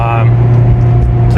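Acura RSX engine in limp mode stuttering under throttle, a loud steady low drone that holds for about a second and a half without clearly rising, over road and cabin noise.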